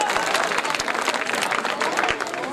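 Enthusiastic audience applause at a mushaira poetry gathering in Jalgaon, dense and steady clapping from a large crowd filling the space, with a few sharper individual claps standing out.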